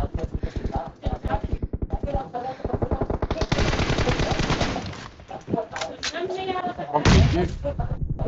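Rapid automatic gunfire from a shooter game in a 2v2 team deathmatch, coming as loud, dense bursts of shots with short pauses between them while players talk over the action.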